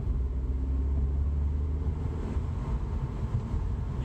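Cabin of an Audi A4 B7 on the move, a steady low engine and road rumble with faint wind hiss, constant and even, no voices.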